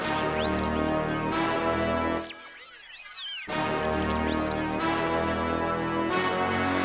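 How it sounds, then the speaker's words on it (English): Chopped alien-like sound samples in an 8-bar beat intro made in FL Studio, dense and warbling, with swooping pitch sweeps in a short thinner break before the full texture returns. "we have an 8-bar intro where I chop up the alien sounds like this."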